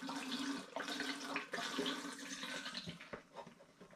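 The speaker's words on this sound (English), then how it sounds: "So now I need to add my new apple juice into the demijohn" Homemade apple juice pours steadily into a glass demijohn with a continuous rushing, splashing flow that varies in strength, close up and without voices.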